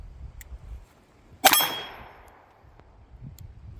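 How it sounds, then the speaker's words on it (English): A single .22 round from a Ruger Mark III pistol strikes a steel gong, giving one bright metallic clang that rings and fades over about a second amid quiet outdoor background. "we're gonna finish this one off with the gong"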